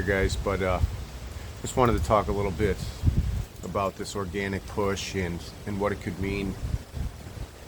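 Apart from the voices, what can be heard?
wind blowing into the microphone outdoors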